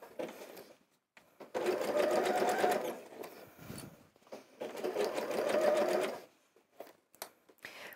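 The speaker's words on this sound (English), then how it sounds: "we're simply just going to do that wide zigzag stitch all around the top of the bag to secure that into place" A sewing machine runs a wide zigzag stitch around the top of a fabric caddy bag in two sustained bursts of steady mechanical whirring, with quiet pauses and small handling sounds before, between and after.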